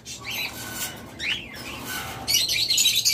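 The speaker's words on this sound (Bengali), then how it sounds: "এরপর এখানে রয়েছে আরেক জোড়া ককাটেল, এটা কিন্তু টেম।" A tame pair of cockatiels gives a run of short squawking calls and chirps close by, with a denser, brighter burst of calling near the end.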